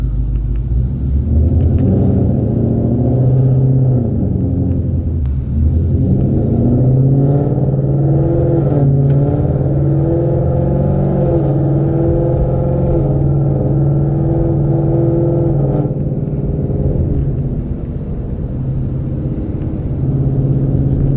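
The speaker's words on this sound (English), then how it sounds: "We're gonna put her in Sport Plus mode here, and then we'll go on a drive." A 2018 Ford Mustang GT with the 10-speed automatic, driven in Sport Plus mode, gives off a steady, loud engine rumble from inside the cabin, with rising revs and quick shifts through the gears and no talk.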